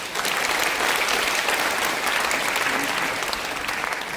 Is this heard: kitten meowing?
no